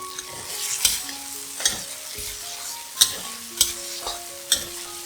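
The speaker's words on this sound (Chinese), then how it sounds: "炒一炒。" Vegetarian sea cucumber stir-fried in a wok with tomato sauce, chili sauce and plum sauce, a steady sizzle broken by several sharp scraping clanks of the spatula at irregular intervals, close and alone.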